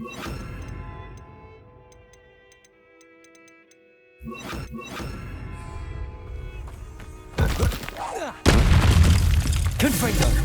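A Confringo blasting spell explodes in Hogwarts Legacy, a sudden loud boom and crackling burst after quieter ticking and chiming game sounds, followed by a heavy roaring blast that fills the end.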